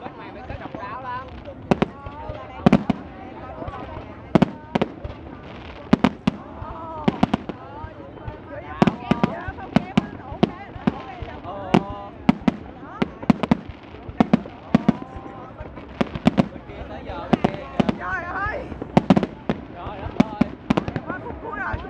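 Fireworks at the Dalat flower festival boom and crackle in a long, irregular barrage of loud bursts, some sharp and some rolling, with people talking and exclaiming among the crowd between blasts.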